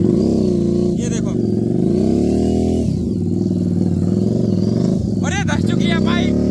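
A 230 kg Harley-Davidson 750 motorcycle revs hard with its wheel stuck in loose sand, a steady loud engine drone rising and falling across the clip under someone talking throughout.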